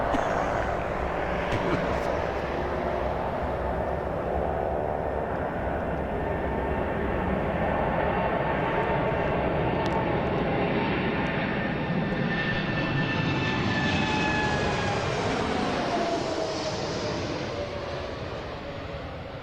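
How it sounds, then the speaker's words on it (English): A large jet roars steadily overhead for a long stretch, a broad engine rumble with a whining tone that sweeps down as it passes, with faint talk beneath. "if you want to see a big aeroplane, jumbo jet, Sunday afternoons right at East Midlands Airport"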